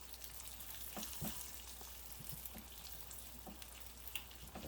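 A steak sizzles and spits steadily in a Costco pan, with a few soft scrapes and taps as it is flipped, close and fairly quiet throughout.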